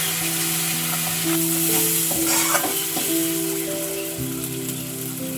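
Cooked-down masala sizzles loudly as ground poppy seed paste is sautéed in it for an egg posto, a continuous frying hiss with stirring scrapes and background music throughout.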